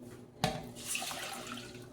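Filtered water poured into a pot for oatmeal, a faint, brief splash at the start followed by a soft, steady trickle of liquid filling the pot.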